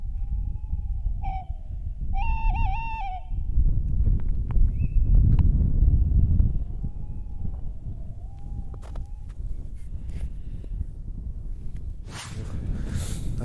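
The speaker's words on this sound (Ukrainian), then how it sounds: "Це чий голос? Сірий совий." A tawny owl calls at night during an owl survey in Pyriatynskyi National Nature Park, with several drawn-out wavering hoots, one strong burst and fainter ones later, over steady low wind rumble.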